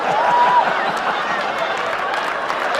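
A theatre audience at a live comedy show cheering and applauding, a dense steady wash of clapping and crowd noise, loud and continuous, with a voice speaking over it.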